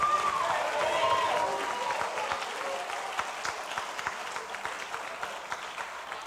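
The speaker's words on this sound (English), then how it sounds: "clap for them" An audience at a group recognition ceremony applauds steadily, a dense wash of many hands clapping that carries on for several seconds and thins slightly toward the end.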